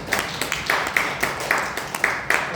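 A church congregation applauds in celebration, a run of scattered hand claps with several sharp peaks over a steady wash of clapping, moderately loud in an indoor hall.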